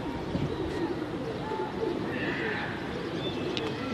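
Pigeons at a rooftop loft in a pigeon-flying contest, their coos and wing flutters forming a steady, busy layer under a constant outdoor hum, with a few higher calls rising briefly near the middle.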